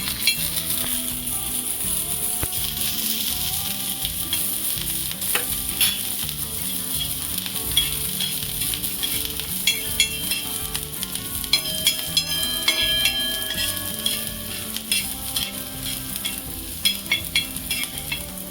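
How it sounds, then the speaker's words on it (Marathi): Onion fries in a pan for a Japanese rolled omelet, a continuous close sizzle broken by frequent spatula stirs and light metallic scrapes against the pan, with no talking. "कांदा घालते थोडंसं त्याला आपल्याला परतून घ्यायचं आहे"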